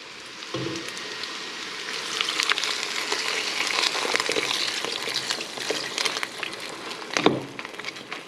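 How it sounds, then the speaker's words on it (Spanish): Water pours into a hot pot of chiles for a Mexican torta sauce and sizzles and hisses, with a bubbling, crackling spatter that holds steady throughout. "esto ya está listo para recibir el agua"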